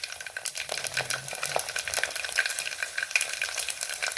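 Garlic cloves, cut into pieces, sizzle in hot oil as a tempering for a stuffed brinjal curry, giving a steady crackling hiss with brighter pops and a few faint utensil clinks.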